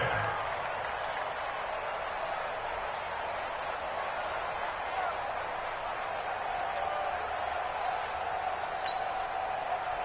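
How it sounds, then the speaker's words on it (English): A steady roar of stadium crowd noise fills an American football video game during a big third-down play, a dense, continuous wash of cheering that holds evenly throughout. "The crowd getting into it as we come up on a big 3rd down."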